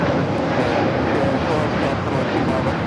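Spirit Airlines jet rolling down runway 25R at Los Angeles International Airport, a steady broadband engine roar and rush that holds at a constant level throughout, with no clear peaks and mixed with wind.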